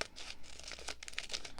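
A cellophane bag is opened at close range with bright, continuous crinkling and crackling of the thin plastic flap, lasting under two seconds with no talking.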